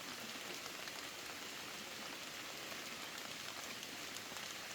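Steady rain patters on a surface, a soft continuous hiss with no voices.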